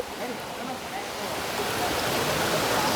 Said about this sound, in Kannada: ಅದ್ರೊಳಗೆ ಮತ್ತಿದಿಲ್ಲಿ ನೀರಿನ ಸೌಂಡ್, ಜುಳು ಜುಳು ಹರಿಯಾತಿದ್ದ